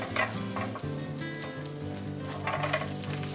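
A grilled cheese sandwich frying in butter in a pan gives off a steady, close sizzle with crackling pops and no talking.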